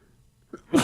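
A single sharp sneeze bursts out near the mic after a faint breath, loud and brief in an otherwise quiet room.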